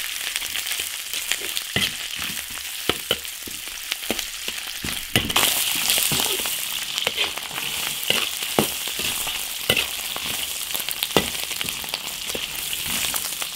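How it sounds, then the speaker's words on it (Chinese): Cured pork stir-frying in hot oil in an iron wok, a steady loud sizzle broken by frequent sharp clicks and scrapes of a spatula stirring, with no voices. "下腊肉煸炒"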